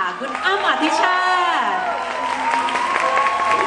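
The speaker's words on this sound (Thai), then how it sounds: "ขอเสียงปรบมือต้อนรับค่ะ" A studio audience claps steadily to welcome celebrity guests onto a Thai talk-show stage, sustained applause running under a host's voice.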